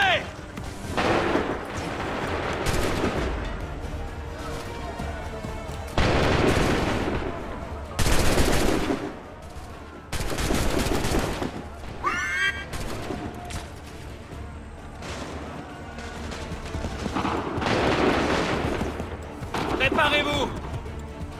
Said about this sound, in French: Ouvrez le feu!